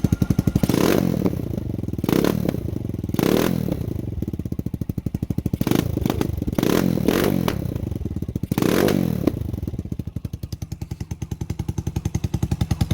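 Lifan KP Mini 150 motorcycle fitted with a CG250 engine idling with a steady, close thumping putter, rising into several throaty revs and settling back to a lumpy idle.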